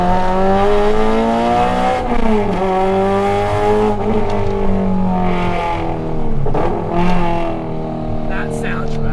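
A Honda Civic Type R FN2 with its K-series engine revs hard and climbs through the gears, a loud, harmonically rich howl rising and dipping at each shift, with a voice talking over it.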